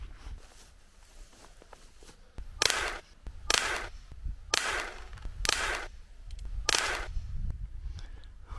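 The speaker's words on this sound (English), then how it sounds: "let's get a target up and see how accurate this gun is" Five sharp shots from an Umarex Colt Single Action Army .177 air pistol fired at a 10-meter target, evenly spaced about a second apart, each a crisp pop over quiet room noise.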